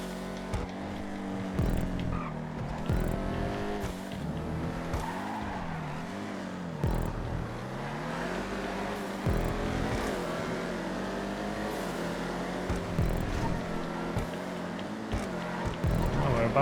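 Vigero ZX muscle cars racing in Grand Theft Auto V, engines roaring and revving in rising and falling sweeps as cars lap one another, with continuous motor noise throughout.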